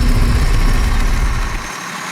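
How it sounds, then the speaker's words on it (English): A Soviet DT-175 Volgar tracked tractor engine runs smoothly, giving a steady, loud low rumble close by with no hesitation or jerks. "You see, the engine runs smoothly without jerks, with just the right amount of power."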